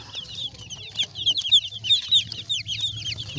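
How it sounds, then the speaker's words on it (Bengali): A large laying hen clucks among day-old broiler chicks, whose high, rapid peeping runs continuously over the low clucking, close by and moderately loud throughout. "নিচে এই বড় মুরগি আছে ডিম পাড়ে দেখো"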